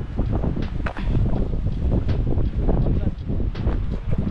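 Steady outdoor wind gusting against the microphone, a loud continuous roar with brief surges and faint background voices.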